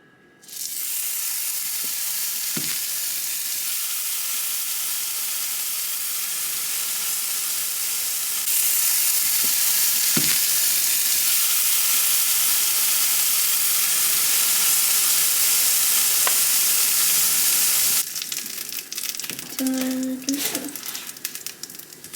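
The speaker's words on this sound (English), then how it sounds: "I have a fry pan heating up with some oil in it" Oil heating in a fry pan sizzles and hisses steadily and loudly for about twenty seconds, the sound swelling partway through, with a few faint clicks and a brief murmur of a voice near the end.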